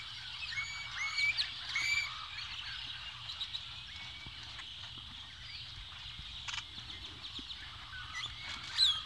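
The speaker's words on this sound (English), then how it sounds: "Every tree has birds in it." Outdoor birdsong from several birds, including cardinals, chirping and calling at once in trees near the Rio Grande by Falcon Lake, Texas, steady and moderately distant, with a low rumble underneath and no talking.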